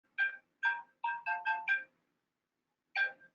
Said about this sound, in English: sorry, I'm getting a call in